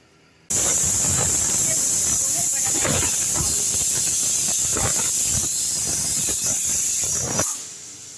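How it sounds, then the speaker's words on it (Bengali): A pressure cooker holding dalia khichdi with vegetables hisses steadily with escaping steam, a loud continuous spray that starts abruptly and runs for about seven seconds before cutting off, with some clattering underneath. "এটাকে আমি এবার সিটি পড়ার জন্য রেখে দিলাম"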